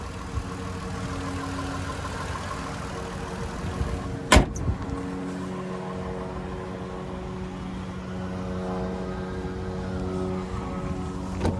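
A 2017 Lexus RX 350's 3.5-liter naturally aspirated V6 idles with a smooth, steady hum heard close up, broken once by a sharp click partway through.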